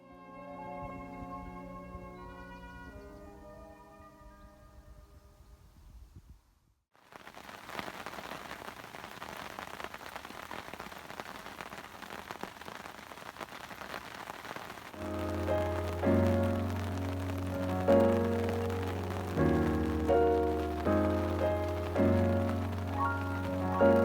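At a lake, a steady broadband hiss of rain sets in after a quiet start, continuing throughout while low droning and tonal sounds rise over it in the second half.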